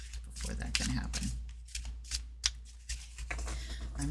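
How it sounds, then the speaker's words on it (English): An oracle card deck being cut-shuffled by hand, with repeated crisp riffling and slapping bursts in an irregular rhythm, heard close under a voice talking. "So let's do 3 more cut shuffles."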